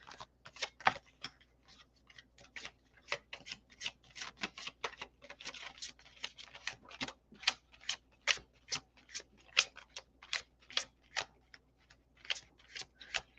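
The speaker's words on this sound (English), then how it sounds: "Wow, that's a loud deck. I apologize. That's kind of loud. Let me overhand shuffle." A loud tarot card deck being overhand shuffled, a steady run of sharp, crisp card slaps repeating rapidly and close by, with no talking.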